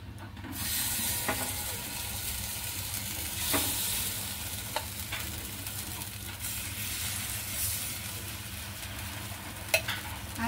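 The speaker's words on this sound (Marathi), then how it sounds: "आता आपण आप्यामध्ये हे आप्पे टाकून घेऊया" Appe batter fries in an appe pan, a continuous soft sizzle and hiss with a few sharp clicks and taps from utensils against the pan, moderately close and with no talking.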